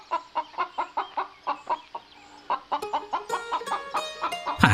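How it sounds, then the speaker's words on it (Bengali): A cartoon chicken clucks in a quick run of evenly spaced, close clucks, then breaks into a busier, higher squawking flurry toward the end. "আমি তোমার মুরগি নিয়ে এসেছি।"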